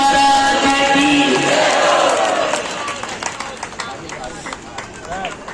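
An audience at a satsang farewell gathering in Beawar breaks into dense, loud applause mixed with crowd voices, starting at full force and then easing to a lighter patter of claps.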